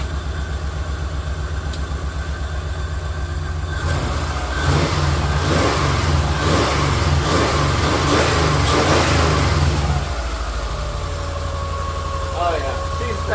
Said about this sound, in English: I'm gonna rev it up just a little bit.